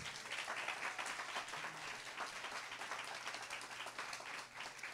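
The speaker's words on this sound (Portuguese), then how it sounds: "Vamos aplaudir o Senhor Jesus" Church congregation applauding during a Portuguese-language worship service, a steady, full patter of many hands clapping together, fairly quiet overall, with a low electrical hum underneath.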